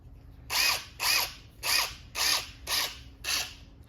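A cordless impact driver, Milwaukee or Ridgid, drives screws in six short, close, loud hammering bursts at an even pace with brief pauses between them, and no voices.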